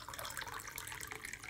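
A faint, steady trickle of hot chocolate pouring, soft and continuous for a moment.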